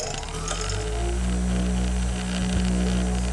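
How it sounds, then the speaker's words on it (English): A homemade bench grinder motor runs at a steady pitch, a loud continuous electric hum with layered tones and a slight rise as it spins up at the start, with no voices. "And then we'll just turn the grinder on."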